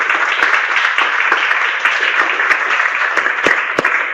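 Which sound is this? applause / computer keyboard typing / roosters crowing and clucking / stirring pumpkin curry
applause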